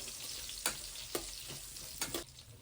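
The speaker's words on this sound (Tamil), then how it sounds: "வெங்காயம் நல்லா ஆட் பண்ணிவிட்டு அது நல்லா பொன்னிறமாக நம்ம வதக்க விடணும்." Onions fry in a pan for tomato capsicum rice, a faint, even sizzle broken by a few sharp stirring scrapes.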